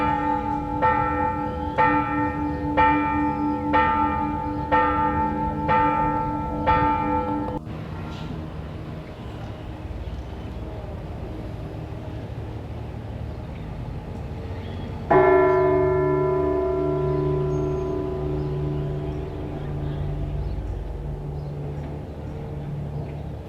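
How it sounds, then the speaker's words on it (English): Church bells ring close and loud in Dolores Hidalgo, a steady series of strikes, then a pause before a deeper bell tolls and slowly decays. "When they ring the church bells"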